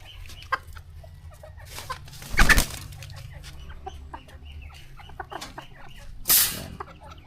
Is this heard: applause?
no